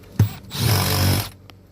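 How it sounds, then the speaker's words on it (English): A power drill whirs while removing the seat bolts of an Infiniti Q50, a single close, loud burst of about a second, just after a sharp click. "Now let's take the speed drill."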